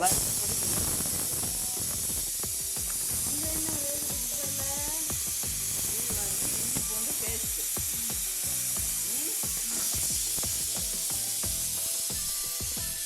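Cinnamon, cloves and cardamom fry in oil for a country chicken gravy, giving a steady, loud hissing sizzle throughout while a voice talks over it.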